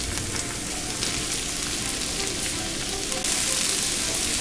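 Mushrooms sizzle steadily in a hot pan for a Provençal-style chicken dish, a dense, even crackle throughout with a slight jump in loudness near the end; no one speaks.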